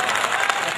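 A short, close burst of clapping from an audience at a Hindi poetry recital, over in under a second.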